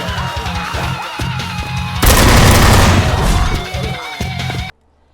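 Rapid gunfire in a free zombie shooter video game, loud repeated bursts of shots with a heavy blast in the middle, then sudden silence at the end.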